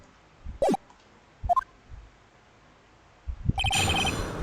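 Mobile phone ringing unmuted indoors in short separate chirping bursts, then a longer ringtone passage toward the end, fairly clear with no talk over it.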